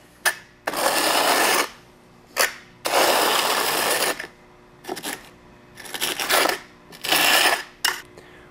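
A plasterer's trowel spreads mortar into the grooves on the back of an upside-down tile or paver in repeated bursts of gritty scraping, each stroke about a second long with short clicks and gaps between.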